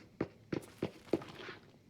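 In the shooter Arena Breakout Infinite, an enemy player runs nearby, four quick, evenly spaced footfalls thudding close and clear against a quiet background.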